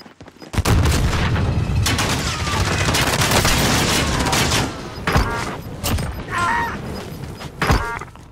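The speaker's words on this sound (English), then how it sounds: "Taking direct fire." Video game gunfire roars in dense, loud, sustained volleys of overlapping shots and booms that thin out into scattered bursts.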